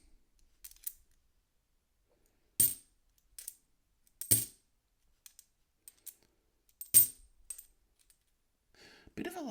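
Coins being handled and dropped onto a surface: sharp metallic clinks and clatters in scattered bursts, some louder drops among lighter taps, close by with no talk.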